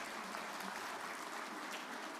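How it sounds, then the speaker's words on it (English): Soft, even applause rises from the audience at an international halal conference after a presentation, a distant, fairly faint patter of many hands clapping continuously without pause. "We give a big round of applause for Kim."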